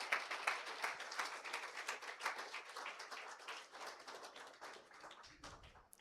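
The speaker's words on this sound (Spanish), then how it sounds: "Den un aplauso al Señor que vive y reina," Church congregation applauding, a fairly close, crisp patter of many hands clapping that gradually fades and thins toward the end, fairly quiet overall.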